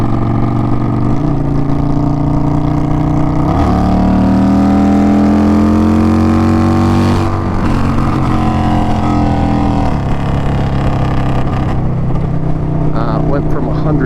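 A loud 2021 Indian Scout Bobber motorcycle engine with tune, intake and aftermarket exhaust rumbles and revs continuously, rising and falling in pitch, with a deep throaty tone throughout.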